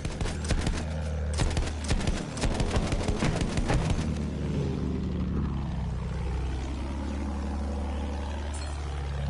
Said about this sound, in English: Enemy plane! See it?